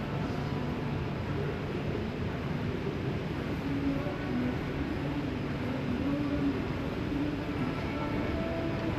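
A Singapore MRT train at Woodlands station rumbles steadily at moderate volume with low mechanical hum and faint tonal whine, a continuous rail vehicle sound without clear speech.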